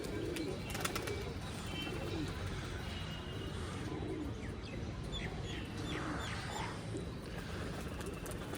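Pigeons in a loft keep up a steady low cooing and murmuring throughout, with faint wing flutters and scattered higher calls over a constant background hum.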